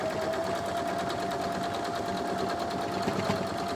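A sewing machine stitches steadily along a fold line, a fast continuous rhythmic whirr of needle strokes running close and unbroken without any talk.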